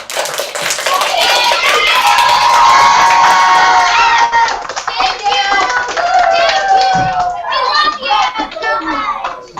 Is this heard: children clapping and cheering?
yes